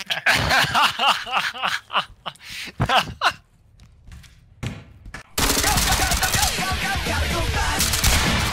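Rapid bursts of video game gunfire in Early Access Law Enforcement, loud and dense, mixed with laughter and chatter at first, then a sustained stretch of continuous shooting.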